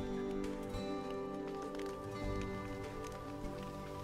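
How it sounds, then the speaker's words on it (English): Steady monsoon downpour in the Virtual Villagers 4 video game, a dense, continuous patter of rain on surfaces with a low droning backdrop and no talking. "Today is the first day of the rainy season, marked by the first afternoon monsoon."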